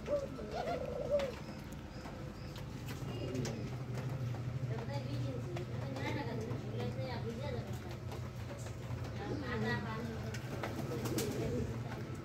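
Pigeons kept in a wooden box coo in low, repeated, throaty murmurs at close range, continuing steadily throughout under faint background noise.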